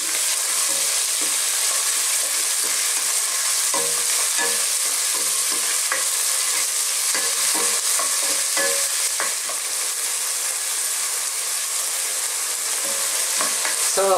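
Chicken breast browning in a pan for chicken sotanghon, a steady close sizzle of frying broken by frequent scrapes and clinks of a utensil stirring.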